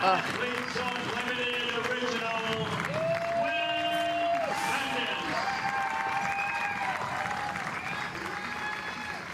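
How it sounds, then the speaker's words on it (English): Softball teammates pour out of the dugout while a crowd applauds, a steady wash of clapping running under a commentator's voice throughout. "you see her teammates coming out of the dugout to give her an applause as well"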